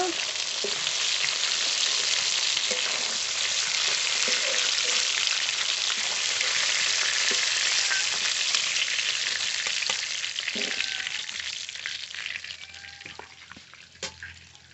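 Food frying in a pan, a dense continuous hiss and sizzle with small crackling pops that eases and thins out toward the end.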